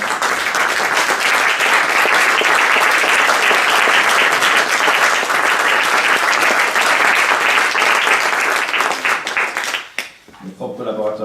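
Loud, sustained applause from a theatre audience for the organizing team, dense clapping that holds steady for about ten seconds before cutting off abruptly, after which a voice begins speaking.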